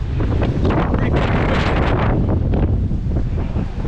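Strong wind from Hurricane Henri buffets the microphone with loud, continuous roaring gusts and rumble.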